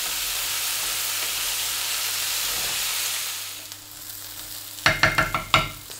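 Vegetables sizzle and hiss steadily while frying in a pan for a vegan dark sauce, then the sizzle quiets and a few sharp clatters of stirring follow near the end.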